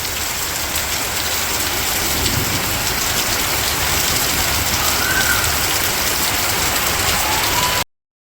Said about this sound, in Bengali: আমি বাসায় আসছি আর বৃষ্টি নামা শুরু হয়ে গেছে।